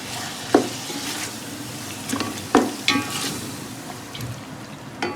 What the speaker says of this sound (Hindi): अब मैं इसमें दही ऐड करूँगी और दही ऐड करने के बाद इसको अच्छी तरीके से चला दूँगी।